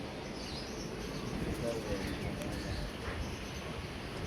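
Pigeons kept by a pigeon fancier cooing softly outdoors, a low murmuring coo under a steady broadband background with faint chirps, fairly distant and quiet.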